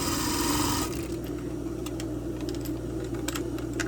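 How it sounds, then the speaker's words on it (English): A domestic sewing machine stitching stretch knit fabric for a bra repair: a rapid, steady mechanical chatter that loudens briefly at the start, then continues evenly with small clicks, with no talking. "I'm letting the sewing machine stretch it"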